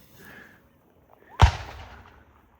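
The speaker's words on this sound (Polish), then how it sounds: "słyszeliście kolejny strzał" A single sharp gunshot cracks out during a hunt in Nigeria, fairly close, with a brief echoing tail across open ground; faint voices are heard earlier.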